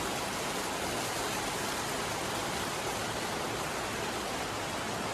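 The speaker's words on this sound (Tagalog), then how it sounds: "Yung weather ngayon, medyo maulan na." Steady rain falls outside at night in a dense, even hiss that holds without a break for several seconds, with no voices.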